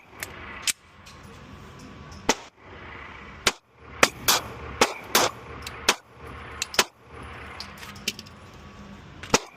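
Canik MC9LS pistol fired at an indoor range, a string of sharp, loud cracks spaced irregularly over several seconds, with muffled ambient range noise between shots.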